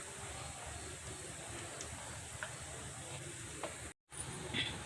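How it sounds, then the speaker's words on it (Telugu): Sugar gorumiti sweets fry in hot oil with a steady, soft bubbling sizzle that continues throughout, broken by a brief dropout near the end, with no talk. "ఇవి నెమ్మదిగా వేగుతాయి. ఇదిగోండి వేగుతున్నాయి."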